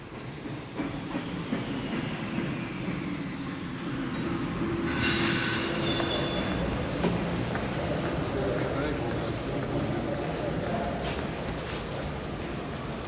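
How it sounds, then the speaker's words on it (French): The Cisalpin Milan-Lausanne-Paris train departs Milan station, rumbling and rolling along rails, with wheel clatter and a brief metallic squeal, while someone talks over it. "Ici, c'est le Cisalpin Milan-Lausanne-Paris au départ en gare de Milan."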